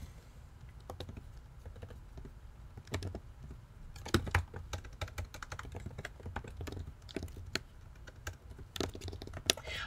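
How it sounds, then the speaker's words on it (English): A computer keyboard clatters as a command is typed during a kernel-debugging lesson, with uneven bursts of close, crisp keystrokes and pauses between them and no voice over the top. "We'll type this command here."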